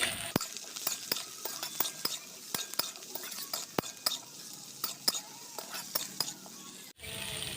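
Onions, ginger and green chillies sizzle steadily in a hot pan, with frequent sharp clacks of a spatula stirring against the metal, close and fairly loud, ending in a brief cut.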